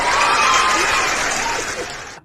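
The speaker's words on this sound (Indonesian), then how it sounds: "aku kasih sorakan dulu" A burst of crowd cheering and applause, played as a sound effect by a host during a conversation, fills the clip steadily at moderate loudness and cuts off abruptly near the end.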